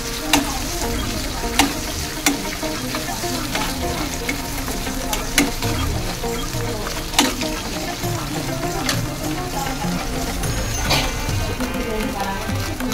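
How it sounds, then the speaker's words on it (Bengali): Dried fish frying with onions in a pan makes a loud, continuous sizzle with steady stirring and sharp spatula clicks against the pan throughout. "তারপর শুটকিগুলো ভালো করে ভেজে নেব পেঁয়াজের সাথে।"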